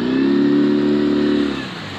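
A sailboat's engine, fitted with new spark plugs, starts and revs hard with a loud, steady mechanical roar before easing off toward idle near the end.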